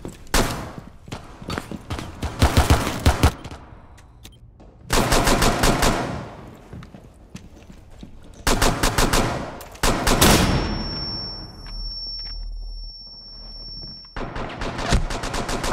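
Automatic gunfire in the video game Rainbow Six, several loud rapid bursts separated by brief pauses, with a sustained high tone ringing after one burst.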